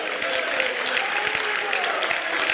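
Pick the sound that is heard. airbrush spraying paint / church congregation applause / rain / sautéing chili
church congregation applause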